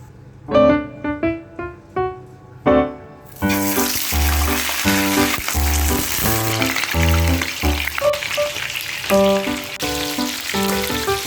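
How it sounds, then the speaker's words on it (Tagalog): Six fish fry in plenty of hot oil in a pan, first a few separate bursts of crackle as they go in, then a loud, steady, close sizzle with bubbling spatters running throughout, no voices. "Anim na isda po ang ating pinirito dito."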